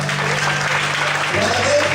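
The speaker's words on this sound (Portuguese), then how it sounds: "Você pode aplaudir a ele nessa noite" Church congregation applauding during a Portuguese-language evening service, a dense, steady wash of clapping filling the room for the full stretch, with a low organ or keyboard drone underneath.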